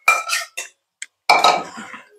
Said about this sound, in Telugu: ఉంచుకున్న మటన్ని ఇందులో వేసుకోవాలి. వేసుకొని మంచిగా కలుపుకొని ఈ మసాలా అంతా పట్టేటట్టు